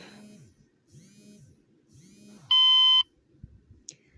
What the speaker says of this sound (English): Sorry about that alarm going off.